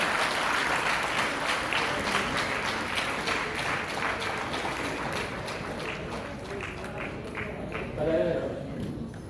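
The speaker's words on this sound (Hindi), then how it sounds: "फिर तालियां जोरदार बजनी चाहिए प्रदीप जी के लिए" A crowd at a large Vaish community meeting in Jaipur claps loudly to welcome a guest to the stage, dense continuous applause lasting several seconds, with a voice on the loudspeaker over it and a brief swell near the end.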